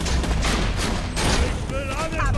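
Gunfire in the video game Borderlands 2: a dense, continuous clatter of shots and explosions fills the whole clip, with a player talking over the noise.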